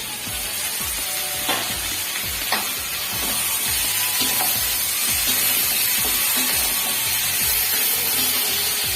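Slit green chillies and salt fry with a fish head in a pan for a Malabar spinach dish. A loud steady sizzle runs under rhythmic spatula scrapes and stirring knocks, roughly two per second.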